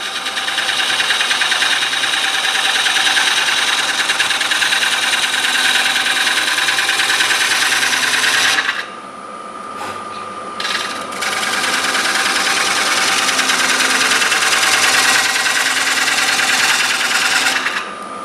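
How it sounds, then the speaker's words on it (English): Woodturning tools being sharpened on a grinder for a red oak bowl project, giving a loud, steady machine whine with a brief dip partway through before it resumes, with no talking. "Once again, time to sharpen these tools."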